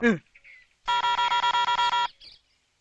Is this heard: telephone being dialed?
yes